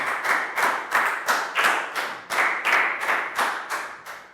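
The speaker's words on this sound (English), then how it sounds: "Big high five and round of applause for Pak Bung." Steady, rhythmic hand clapping during a Year 3 English lesson, about a dozen even claps in a row, close and clear with no voices.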